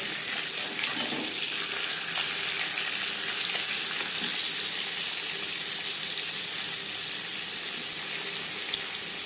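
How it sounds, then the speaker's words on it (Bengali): Katla fish pieces fry in hot oil in a pan, giving a loud, steady sizzle and crackle that runs without a break. No voices are heard. "একটা সাইড ভাজা হয়ে গেলে অপর সাইডটা"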